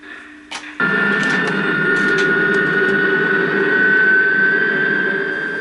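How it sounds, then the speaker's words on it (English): A loud, steady helicopter engine whine with a high tonal hum starts abruptly after a brief click and continues droning close by as the helicopter climbs above a village, from a 1967 TV series. "now the helicopter's going up above what's called the village, and that's where Patrick McGoohan found him"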